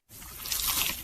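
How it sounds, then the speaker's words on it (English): A cheesy, crunchy pizza slice is pulled apart in a single continuous wet tearing, squishing sound lasting about a second, close and soft, with no voices. "Is that the sound of an ooey gooey cheesy crunchy slice of P-I-Z-Z-A?"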